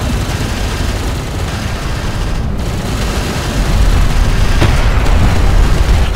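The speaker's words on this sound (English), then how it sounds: "Strike craft destroyed." A strike craft exploding in the Homeworld: Deserts of Kharak strategy game, heard as a loud, rumbling blast amid continuous heavy battle noise that swells slightly toward the end.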